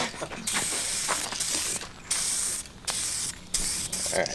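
A spray gun applies powder coat to motorhome rig parts in repeated bursts of loud hissing spray, each lasting about half a second to a second, separated by brief pauses.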